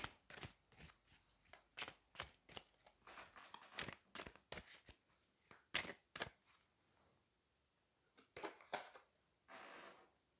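Oracle cards are shuffled close by in a quiet room, a run of crisp rapid riffling flicks and slaps in uneven bursts, pausing briefly before a final few shuffles.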